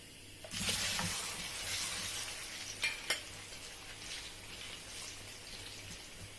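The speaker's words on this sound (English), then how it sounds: "So it's ready. I'm going to start frying the plantain." Plantain slices frying in hot oil, a steady close sizzle with bubbling crackle and a couple of sharp pops or utensil clicks partway through, no voices.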